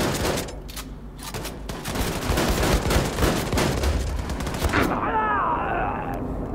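Rapid gunfire bursts from the Wolfenstein II: The New Colossus shooter game, a dense volley of shots running loud and steady for several seconds before giving way to a whirring mechanical tone at the end.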